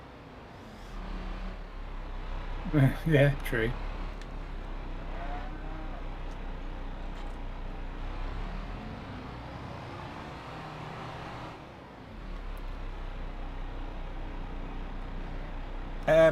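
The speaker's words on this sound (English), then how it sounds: "I like the man truck. I don't like the noise it makes." A MAN truck engine with straight-cut gears and a manual gearbox drones steadily in Farming Simulator 22, with a low, even hum that briefly rises and dips. A few short voices come through over it.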